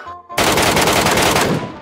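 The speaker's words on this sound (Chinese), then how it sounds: "才刚离开学校就听见枪声" Automatic gunfire bursts loudly in Metro escape mode, a sustained dense rattle of rapid shots lasting over a second after a brief quiet start, then tailing off.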